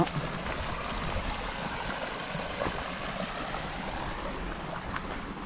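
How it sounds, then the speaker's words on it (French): A small brook flows at the foot of a hillside trail on a grey day near Goult, a steady close rushing burble with faint wind and no voices. "oh, un joli petit ruisseau, bas de la descente"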